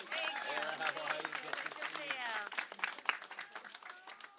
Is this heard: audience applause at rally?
yes